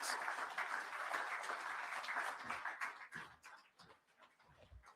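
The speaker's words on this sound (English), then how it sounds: "Another round of applause for our Prime Minister, ladies and gentlemen" An audience applauds the Prime Minister at the launch of a shelter recovery programme, faint, busy clapping that thins out toward the end into a few scattered claps.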